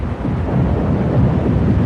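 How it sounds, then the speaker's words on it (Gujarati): A dense, steady roar of thunderstorm with heavy rain fills the air, loud and continuous with deep low rumbling throughout and no voices. "ભયાનક તોફાન આવ્યું, વીજળી ચમકી, વરસાદ પણ શરૂ થયો."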